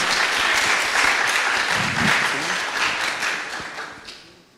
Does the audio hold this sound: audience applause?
yes